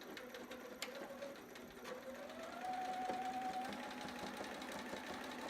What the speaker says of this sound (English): So I'm going to just back stitch once again.